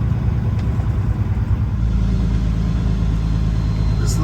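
A truck engine rumbles steadily at a check-in gate, a loud continuous low drone with a slight rise in revs early on and no talking.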